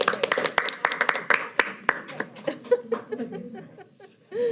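An audience claps at a school district board meeting, a burst of close scattered hand claps with some laughter that thins out and fades toward the end.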